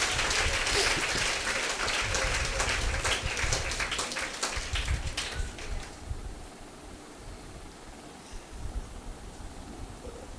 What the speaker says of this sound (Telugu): చప్పట్లు కొడుతూ ప్రభు నామాన్ని స్తుతిద్దామండి.